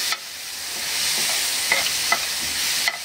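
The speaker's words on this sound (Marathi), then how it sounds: "हे पण आलं लसूण पेस्ट पण एक अर्धा मिनिट कच्चा पण जाईपर्यंत असं परतून घ्यायचं" Ginger garlic paste sautés in a hot pan, giving a loud, steady sizzle that runs throughout, with a few faint scrapes of stirring and no talk.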